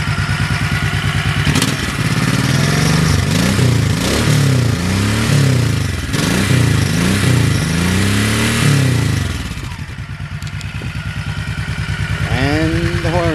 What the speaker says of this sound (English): I like the stock exhaust, not too loud.